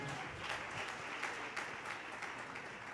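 A church congregation claps loudly during a worship service, a dense, sustained wash of applause from many hands filling the room with no talk over it.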